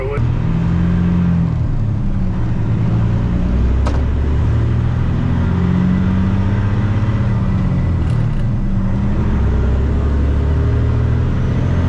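A truck engine hauling a corn trailer on an Iowa farm roars loudly and continuously, rising in pitch through successive gears with brief dips at each shift, under a steady rumble.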